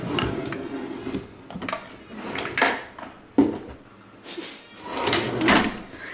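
A drawer full of hair accessories slides open and shut repeatedly, with wooden knocks, rattles and rummaging thuds at close range, one sharper bump standing out among the handling noise.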